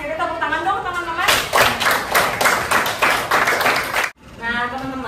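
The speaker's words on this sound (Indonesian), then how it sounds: "Tepuk tangan dong teman-teman." Sixth-grade students in a classroom burst into a round of hand clapping lasting a few seconds. The applause is close and fairly loud, with a teacher's voice talking before and after it.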